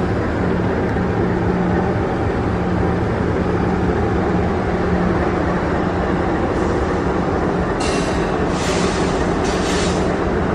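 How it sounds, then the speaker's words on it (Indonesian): A special KLB train stands at Tasikmalaya station, its engine giving a loud, steady low rumble throughout, with a brief higher hiss near the end and no voices. "KLB-nya saat ini sudah berhenti di stasiun Tasikmalaya"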